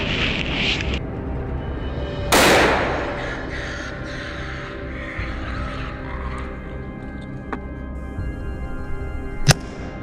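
A single sharp gunshot cracks out during a wild boar hunt near farm fields, standing alone against a quiet outdoor background, with a second smaller sharp crack following a few seconds later.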